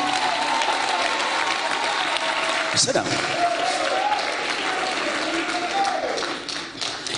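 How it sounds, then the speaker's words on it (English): A church congregation claps steadily through the whole stretch, a dense wash of hands with crowd murmur. A preacher's amplified voice speaks over it, and a sharp knock is heard near the middle. "Can we clap for the man of God?"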